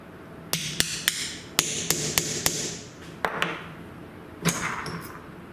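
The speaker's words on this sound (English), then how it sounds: "And then we're just going to tap it down." A graver handle is tapped down onto a needle burnisher for jewellery making: about a dozen sharp, close metallic taps in short irregular bursts with brief pauses between, clear and alone over faint room noise.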